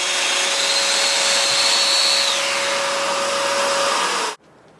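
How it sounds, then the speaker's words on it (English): A Festool Domino joiner makes a plunge cut into a wooden workpiece, a loud steady motor whine with a rising tone partway through, then an abrupt stop into near silence. "I'll make my plunge cut"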